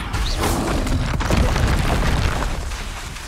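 A Leviosa levitation spell cast in Hogwarts Legacy, heard as a dense rumbling whoosh with a low boom and brief crackle, steady and fairly loud over a continuous game soundscape.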